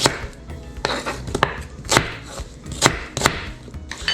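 A knife chops an onion on a board, with a quick series of sharp, close chops in an uneven rhythm and no talking.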